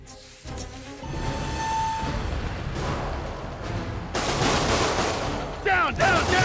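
Heavy gunfire in Spider-Man Remastered as armed thugs open fire: continuous loud automatic volleys with sharp reports, growing more intense toward the end, amid game effects.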